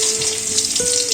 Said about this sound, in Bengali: এদিকে আলুগুলো ভাজা ভাজা হচ্ছে, আর একটু ভাজা হলেই নামিয়ে নেব।